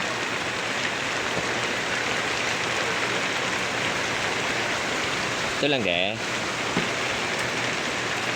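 Heavy rain pours steadily ahead of an approaching typhoon, a dense continuous hiss that stays loud throughout, with a brief voice speaking near the middle.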